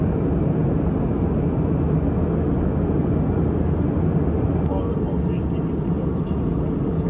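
Steady, loud low-pitched engine drone fills a budget airline cabin continuously, with a faint chime-like tone briefly near the middle.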